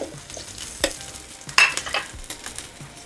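Methi-onion dhapate flatbread cooking on a hot pan gives a soft, steady sizzle, with a few sharper scraping or turning sounds breaking through now and then. No one speaks.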